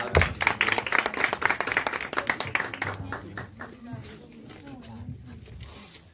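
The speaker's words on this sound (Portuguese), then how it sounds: "uma salva de palmas" Audience members clap for a guest speaker at a talk on theatre and reading, a burst of sharp, scattered claps that thins out and fades as voices come in over it.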